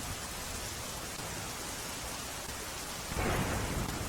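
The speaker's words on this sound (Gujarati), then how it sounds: "જિલ્લામાં મેઘરાજાએ જોરદાર બેટિંગ કરી ગઈકાલ રાતથી અવિરત વરસાદ વરસી રહ્યો છે" Heavy monsoon rain pours down steadily in Gujarat, a dense, loud wash of hiss that swells even louder near the end, with no voices.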